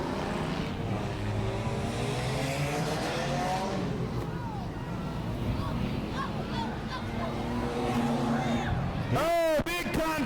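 Race cars roar around an oval track at Auburndale in a continuous engine drone, pitches sweeping as they pass, with a commentator talking over the noise.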